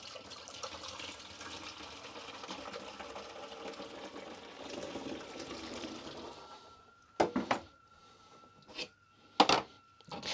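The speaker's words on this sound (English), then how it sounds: "I've just popped a funnel into the top of that container and I'll pour my old brown into it" Used darkroom toner called "old brown" poured through a funnel into a container, a continuous liquid trickle and gurgle for several seconds, then quiet with a few sharp clinks and knocks.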